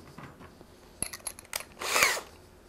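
Power drill driving screws into a PVC rail bracket, faint and close, a couple of short whirring bursts with small clicks, the last burst the loudest.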